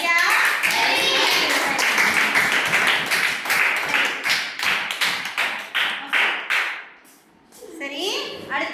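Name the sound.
knocking tapping sound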